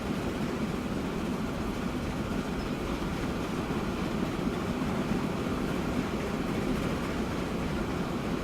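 Steady rumble of a train in the Transport Fever video game, a continuous low rolling drone with no pauses, moderately loud and without talk.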